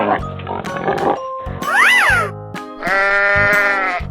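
Cartoon sheep bleats from a 3D animal slide video game ring out in short tonal calls, a rising-falling bleat followed by a longer wavering one, clear and close amid brief game sounds.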